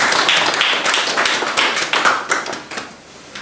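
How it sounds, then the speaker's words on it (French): Hands clap at a political party's press conference held by its England branch, a loud, uneven patter of claps from a modest gathering that thins and fades toward the end. "nous pouvons les applaudir vraiment"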